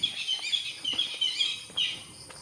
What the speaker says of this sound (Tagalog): Kunin ng tikling na ibon yan.